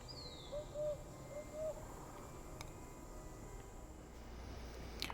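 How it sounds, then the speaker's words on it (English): An owlet hoots in Fallout 76, two short soft hoots early on over a faint night ambience of quiet insect-like hiss. "I kept hearing a hoot like an owl"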